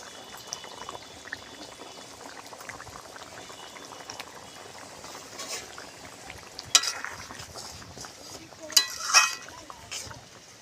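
Katla fish going into a simmering spiced curry, a low bubbling boil with a few stirring clinks and a louder splash near the end, quiet overall.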